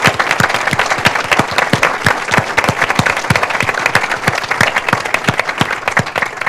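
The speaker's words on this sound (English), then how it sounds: "we'll give you a round of applause from the Bloomfield area." Loud, dense applause from a town hall audience at a jobs and economy event, with distinct nearby claps in fast rhythm over a continuous wash of crowd clapping throughout.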